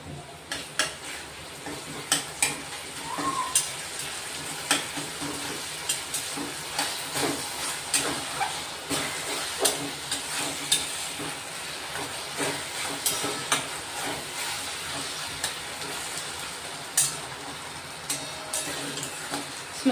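Onions and curry leaves fry in hot oil in a pan, a steady close sizzle with repeated scraping stirs and light clinks of the spoon against the pan throughout.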